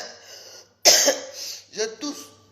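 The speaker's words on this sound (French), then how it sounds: "je tousse." A woman coughing near the microphone, a few sharp harsh coughs with throat-clearing between them, separated by brief quiet gaps, with a little talk around them.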